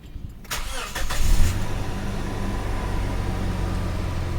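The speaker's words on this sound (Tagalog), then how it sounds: "papandarin ko muna yung makina" A car engine cranks during a coolant change and catches after a moment, then settles into a steady, close idle hum with no talking.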